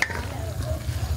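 Brown sugar is stirred into a sweet and sour meatball sauce in a hot pan, with a steady close sizzle and soft stirring scrapes over a short stretch.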